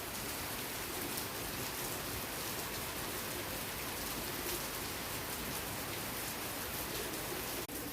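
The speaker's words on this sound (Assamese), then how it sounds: "চাইছে নাই কেনেকৈ দি আছে বৰষুণ" Continuous heavy rain falls over a rose garden, a thick uniform wash of drops striking surfaces, close and constant, with a brief sharp tap near the end and no speech.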